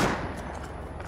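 Gunfire in the survival video game Rust, a brief burst of loud, dense shots that blend into a continuous roar.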